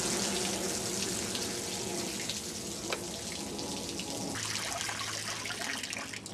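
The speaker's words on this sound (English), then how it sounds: "I'm done watering my plants now" Water runs steadily from a tap or hose while plants are watered, a continuous close splashing flow that changes character partway through, with no talk over it.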